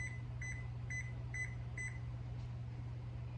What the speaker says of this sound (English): So I'll set a timer for 15 minutes.